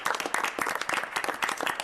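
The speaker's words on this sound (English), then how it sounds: "Round of applause for them." Brief burst of close, dense hand clapping from a small audience at a city council meeting, rapid and uneven with no voices.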